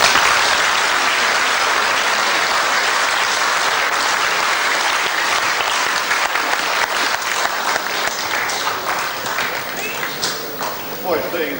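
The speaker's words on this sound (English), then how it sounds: "I think you all and these people here deserve a round of applause." Sustained, dense applause from a school audience fills the room for the finalists of an English department debate and public speaking contest, gradually thinning toward the end.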